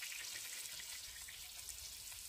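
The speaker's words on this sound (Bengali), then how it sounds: "মাছগুলো আমার ভাজা হয়ে গেছে," Pieces of catla fish frying in hot oil in a pan, a steady close, dense sizzle with bright crackling hiss that continues evenly throughout, no voices.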